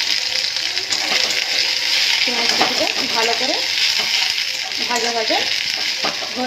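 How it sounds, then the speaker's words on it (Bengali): Chopped onions stir-frying in oil in a wok, a steady loud sizzle with repeated scraping and stirring strokes of a spatula throughout, no voices. "পেঁয়াজ কুচিটা ভালো করে ভাজা ভাজা"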